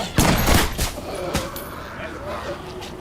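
Shotgun fire in the video game Star Wars: The Old Republic: a cluster of loud, sharp blasts early on, then another burst about a second later, over busy game background noise.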